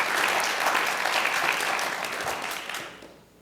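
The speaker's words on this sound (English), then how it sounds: "How about a round of applause for our guest panelists today?" An audience claps for guest panelists at a cyber security employer panel event, a dense burst of applause that holds strong and then fades out over the last second.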